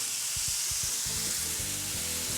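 Smash burger patties hiss and sizzle loudly on a flat griddle just after flipping, a dense steady frying crackle with a few scraping spatula knocks underneath.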